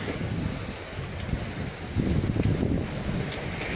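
Strong afternoon wind buffets the microphone as sea waves surge and wash nearby, a dense, loud roar of surf and gusts with no talking over it.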